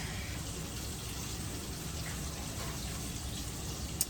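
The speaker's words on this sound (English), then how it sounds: "I just rinsed off my rice" Tap water runs steadily over jasmine rice being rinsed, a soft continuous gush and splash, fairly quiet and close, ending in a brief clack.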